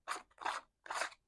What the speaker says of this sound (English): You just run over the edge with your scissors.